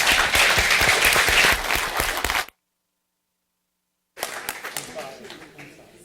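Full audience applause for the panelists at an education conference on Africa, loud and dense at first. It cuts to silence, then returns as lighter, scattered clapping with voices.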